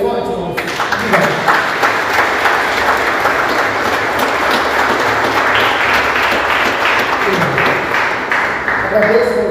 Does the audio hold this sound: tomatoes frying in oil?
no